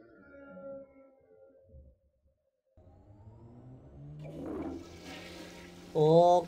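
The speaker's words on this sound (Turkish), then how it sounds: "O nasıl bir sifondur ya?" A toilet flush in an animated Skibidi Toilet battle episode: a loud rushing, gurgling swirl builds over the last few seconds and ends in a sharp surge, following quieter mechanical rumbling and a brief silence.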